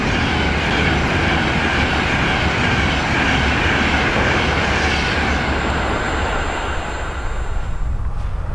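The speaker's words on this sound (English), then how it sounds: "So good to see a train running on the track today." An Avanti West Coast passenger train roars past close by, a loud continuous rumble of wheels on rails with a faint rhythmic clatter that tails off at the end.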